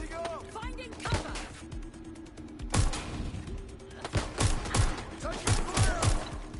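Bursts of gunfire rattle through a London street battle in Watch Dogs: Legion, sharp repeated shots and thuds from close by layered under urgent shouted voices and background game noise.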